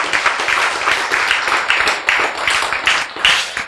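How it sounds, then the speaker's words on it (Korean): Audience applause, a loud and close burst of dense clapping from many hands that holds steady without talk. "박수!"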